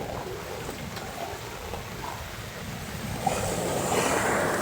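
Swollen floodwater rushes in a steady broadband roar, with wind buffeting the microphone and the surge growing louder toward the end.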